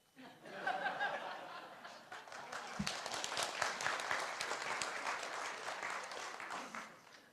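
Audience applause at a credit union annual general meeting, a sustained round of clapping from a room of people with a few scattered chuckles, steady and moderately loud throughout.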